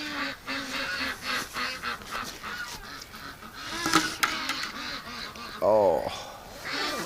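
Ducks quack in repeated nasal calls on a winter outing, some near and loud, others fainter. A person talks among the calls.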